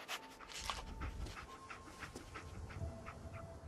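Dogmeat, the dog companion in Fallout 4, pants in quick, steady breaths close by, with faint game ambience and a soft tone underneath.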